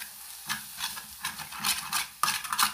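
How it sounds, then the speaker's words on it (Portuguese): Egg cooking in a pan is stirred with a utensil: a series of close scraping strokes over a soft sizzle, each stroke a short burst, irregular in rhythm and alone without talk. "Agora, gente, que o ovo tá já mais cozidinho, vamos mexer, ó."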